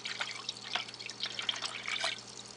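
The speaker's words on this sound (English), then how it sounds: "Pour some water in." Water pours and drips into the reservoir of a Hamilton Beach drip coffee maker, a steady close trickle with scattered splashy drops and no talking.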